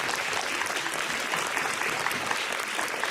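A school audience gives a round of applause at a Student of the Month ceremony, dense steady clapping from many hands filling the room for about three seconds.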